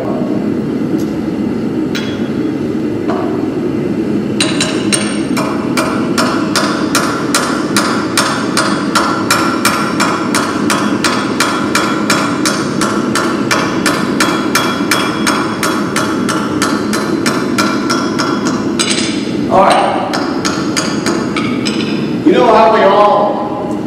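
A heated steel rivet is struck by a hammer in a steady rapid series of sharp metallic blows, loud and close, over a constant roar of background noise, with a few pauses and isolated strikes.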